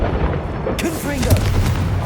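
An explosion from the Confringo spell in Hogwarts Legacy, a heavy rumbling boom with a sharper burst partway through. A brief voice-like sound rises over it.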